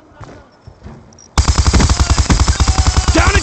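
LSAT light machine gun from a video game firing a sustained, rapid, evenly spaced burst of loud close shots after a quieter opening second with faint background sounds.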